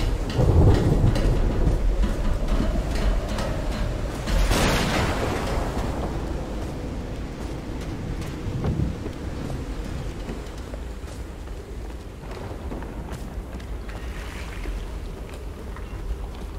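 A thunderstorm in the video game Call of the Sea: steady heavy rain runs throughout, and a loud thunder crack rolls out and rumbles away, with further low distant rumbles, and no voices.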